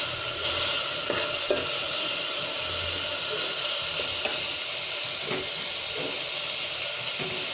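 Dried shrimp frying with spices in a pan sizzle and hiss steadily, with occasional scraping stirs and a faint voice in the background.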